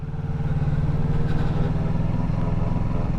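A motorcycle eases away as the clutch is released with a little throttle; a low, steady engine drone sits close throughout the short stretch with no talking.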